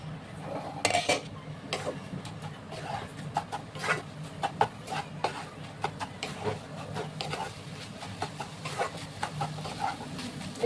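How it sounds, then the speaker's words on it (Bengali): Softened greens cooking in a larger wok, with irregular metallic clinks and scrapes of utensils and pan handling scattered over about ten seconds, close by and against a low steady background hum. "কড়াইটা আমি একটু পাল্টিয়ে দিচ্ছি"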